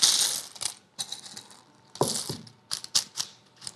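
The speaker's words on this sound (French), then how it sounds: "Je mets les noyaux à l'intérieur." Hard baking beads are poured and dropped into paper-lined tart shells, giving quiet clusters of rattling, clicking impacts in uneven bursts, close by with nothing else underneath.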